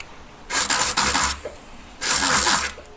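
A coarse file rasps across metal under a collet in two distinct long, close scraping strokes, each about a second long, separated by a short quiet gap.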